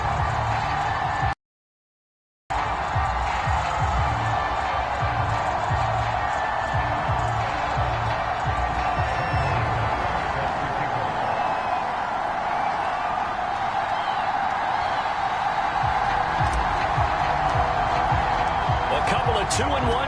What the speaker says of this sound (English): Somehow this place got even louder a short time ago as the Falcons were introduced to this sellout crowd.